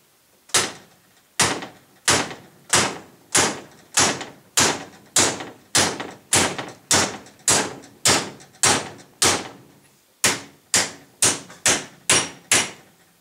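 Steel hammer blows knocking a u-joint out of a crusty truck driveshaft without a press: about nineteen loud, sharp metallic strikes in a steady rhythm, with a short pause before the last few.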